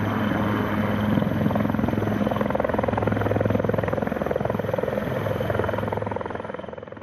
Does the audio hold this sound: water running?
no